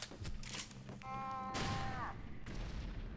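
Gunfire in the video game Loadout sounds as a few sharp shots over a steady ambient bed, with a ringing, whining tone after one blast, under occasional speech.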